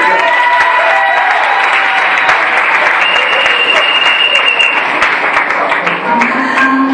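A church congregation applauds loudly at a worship service, sustained clapping filling the room with mixed voices and some sung or called-out tones rising over it.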